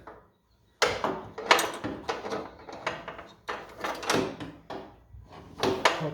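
A mower deck is hinged up on a Kubota compact tractor, producing a series of close, irregular metallic clunks and knocks after a short silence.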